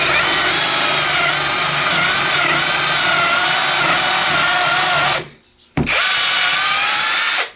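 A cheap 18V brushless 1/2-inch cordless impact wrench knockoff of a Makita, fitted with a 1/4-inch drive bit and run on low range in forward, drills with a loud, steady high whine for about five seconds, pauses briefly, then spins up again.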